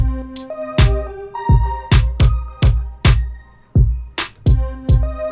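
A sparse programmed dancehall drum pattern with a deep kick and crisp snare-like hits repeating in a loose, syncopated loop, clean and upfront.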